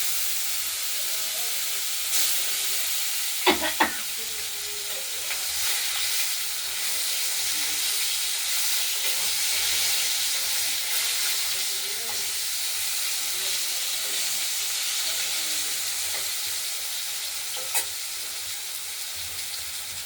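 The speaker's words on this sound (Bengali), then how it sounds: "সর্ষের তেলটা গরম হয়ে গেছে, মাছগুলো আমরা ভেজে নেব এক এক করে।" Fish sizzling in hot mustard oil, a steady, bright frying hiss that runs throughout, with a few sharp spatters and utensil clinks near the start.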